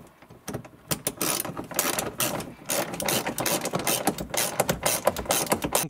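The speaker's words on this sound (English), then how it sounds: "we'll soon get a ratchet here" A ratchet tightens a bolt on the rear heater of a 2003 Ford Explorer, giving rapid, uneven bursts of close metallic clicking in short repeated strokes.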